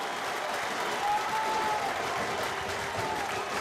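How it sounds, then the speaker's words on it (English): Home fans in a football stadium applaud a long-range shot from the halfway line during a Cape Verde World Cup qualifier, a steady wash of crowd clapping heard from a distance. "generously applauded by the home fans"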